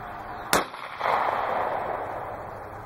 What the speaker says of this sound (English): Shot number one, here we go.